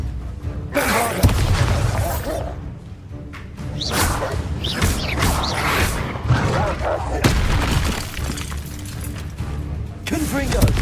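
Booming spell explosions from Hogwarts Legacy, including a Bombarda blast, land as repeated sharp cracks and thuds among whooshing effects over a continuous loud combat bed, with game voices talking throughout.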